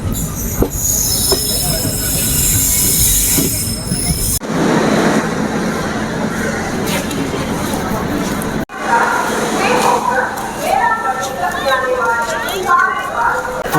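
A passenger train from Trichy pulls into Nagapattinam station with loud, sustained wheel squeal and rumbling carriages, followed by clanking and station bustle with people talking.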